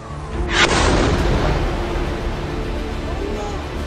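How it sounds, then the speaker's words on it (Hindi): A heavy blast erupts at a Gaza hospital, a sudden loud boom followed by a sustained rumbling roar of debris and noise that lingers at steady volume afterward. "देखिए, जोरदार धमाका होता है,"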